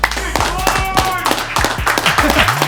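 Studio audience clapping and cheering for Big Boy, a burst of brisk hand claps and whoops up close, with talk over it.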